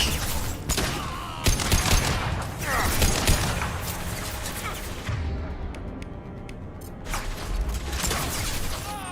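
Gunfire in Mass Effect 2 rattles in near-constant bursts of rapid shots, loud and close, with a brief lull partway through before the firing resumes.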